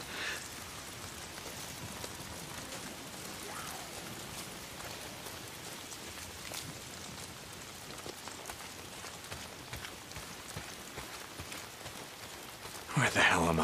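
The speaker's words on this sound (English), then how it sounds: "Why is it always raining?" Steady video game rain patters continuously on a surface, a dense hiss with scattered drop ticks, ending in a brief louder rustle.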